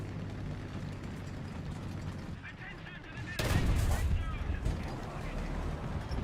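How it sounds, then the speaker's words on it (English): A quick-firing autocannon in a video game, heard as a sudden loud burst of rapid shots midway that continues with rattling echoes over a background of combat ambience. "There's a quick firing autocannon."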